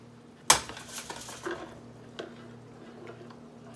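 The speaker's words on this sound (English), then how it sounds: "So I'm going to strain my yogurt a little bit so this doesn't get into my yogurt" Homemade yogurt is strained using kitchen utensils. The sequence opens with one sharp metallic clank, followed by faint clinks and small scrapes of metal on a bowl, all close in a quiet room.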